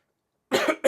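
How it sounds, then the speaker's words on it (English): A man coughs twice in quick succession, the first a longer rough burst and the second a short sharp one, close and fairly loud after a moment of silence. "Sorry for all the coughing, by the way."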